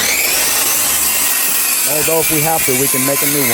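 A loud power tool whines and grinds steadily as it cuts through a rotted mobile home floor, its pitch wobbling as it cuts, while someone talks over the noise.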